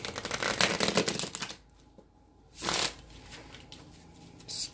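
A Deviant Moon tarot deck is shuffled in two close, crisp riffling bursts separated by a short quiet gap, with a faint card flick at the end.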